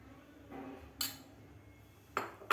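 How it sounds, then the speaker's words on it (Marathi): A spoon stirring spiced masala into milk in a pan, with a few sharp metallic clinks against the vessel separated by quiet, close and faint. "मसाला घातल्यानंतर व्यवस्थित आपल्याला हे दूध मिक्स करून घ्यायचं आहे"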